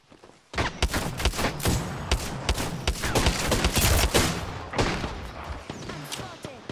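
Rapid bursts of gunfire and heavy thumps from an Apex Legends firefight rattle on loud and dense almost without pause, with sharp cracks layered over booming impacts.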